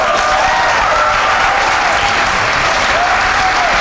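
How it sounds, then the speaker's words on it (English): Studio audience applauding during a Nollywood-style talk show taping, a steady loud wash of clapping throughout with faint voices beneath. "Oh, you're clapping now."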